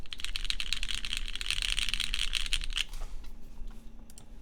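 Keys clack rapidly on a TKL mechanical keyboard, a dense, close, fairly quiet stream of keystrokes that stops abruptly, leaving a few scattered clicks against a faint room hum.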